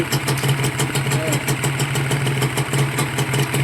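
A Honda NSR150R two-stroke motorcycle engine idles in neutral on a test run, a steady close-up putter with a constant low throb and buzzy overtones, running without a break for the whole stretch.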